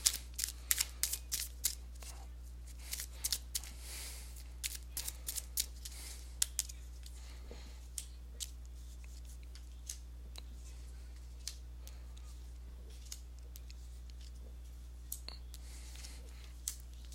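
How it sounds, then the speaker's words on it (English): Tarot cards being shuffled by hand for a reading, a quiet series of soft crisp snaps and flicks, dense at first and then sparse and scattered, close but faint over a low steady hum. "let me go ahead and give these cards a shuffle"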